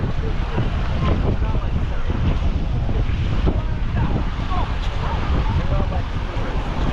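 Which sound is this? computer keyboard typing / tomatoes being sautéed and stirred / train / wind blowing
wind blowing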